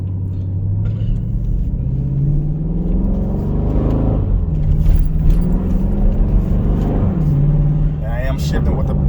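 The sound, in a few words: Dodge Durango SRT 392 engine accelerating with exhaust pops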